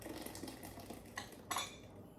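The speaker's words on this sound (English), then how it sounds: "Okay, and you just stir it back into the pot." A spoon stirs blended pinto bean soup back into a cooking pot, giving a few soft scrapes and clinks against the pot, with a brighter clatter near the end.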